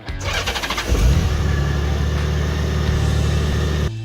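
A Honda Goldwing touring motorcycle's engine cranks over and catches, then settles into a loud, steady close-up idle with a deep, even rumble until it cuts off abruptly.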